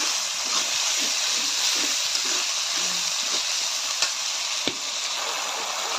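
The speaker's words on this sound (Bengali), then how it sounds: "মশলাগুলো আমি ভালোভাবে এখন কষাবো।" Masala spices sizzling and frying in a pan as they are stir-cooked, a dense steady hiss with faint stirring scrapes and a couple of sharp utensil clicks, no talking.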